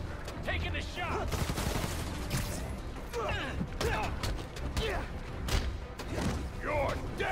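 Enemy gunfire in the Spider-Man: Miles Morales video game, scattered bursts of shots and thuds overlapping under game dialogue and voices, with impacts and mechanical clatter mixed in.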